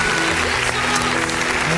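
A church congregation claps steadily through a worship service, dense continuous applause with faint voices mixed underneath.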